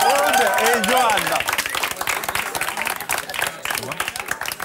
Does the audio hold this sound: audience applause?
yes